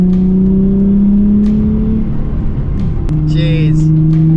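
Red project car engine revving hard, a steady high-rev drone that dips around the midpoint then climbs again, loud and close with a brief sharp chirp near the end.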